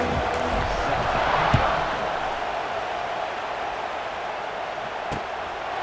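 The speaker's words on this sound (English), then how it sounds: "They're set to kick it off, and this crowd now ready to get behind them." Stadium crowd noise from EA Sports College Football 26, a steady broad roar with a brief swell near the start, continuing evenly without speech.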